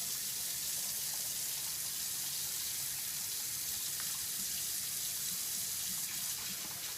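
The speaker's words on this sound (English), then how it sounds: "what I do is actually start increasing the temperature of the water" Tap water runs steadily over frozen shrimp in a kitchen sink to thaw them, a continuous close hiss and splash lasting throughout with no talk.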